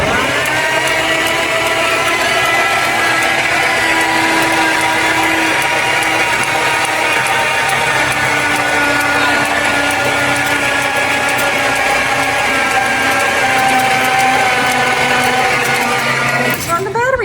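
A 1954 Willys Jeep truck engine is turned over on the starter with a nearly dead battery, producing a loud, sustained whirring, ratcheting crank that runs steadily for many seconds before cutting off at the end.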